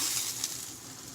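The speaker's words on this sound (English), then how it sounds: "That's what we need to hear every single time when we're cooking beef." Beef sizzles steadily in a hot pan, a dense, crackling hiss heard up close with no talking.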